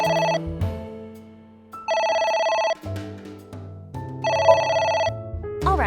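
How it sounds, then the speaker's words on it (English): Telephone ringing in the video game AI The Somnium Files, three bursts of an electronic bell ring separated by short pauses, loud and close over a soft musical background. "It's ringing again."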